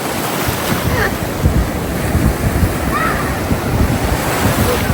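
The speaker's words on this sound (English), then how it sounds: "Oh, the waves are coming so strong." Strong ocean waves crashing and washing on the beach at Folly Beach, a loud continuous roar of surf mixed with wind buffeting the microphone, with faint voices in the background.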